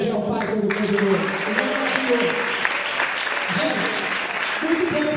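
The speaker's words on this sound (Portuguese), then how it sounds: "Vamos aplaudir ao Pai Todo-Poderoso." A church congregation claps together in a sustained round of applause that fills the whole stretch, with a voice speaking over it.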